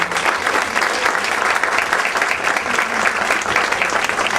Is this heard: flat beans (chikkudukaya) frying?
no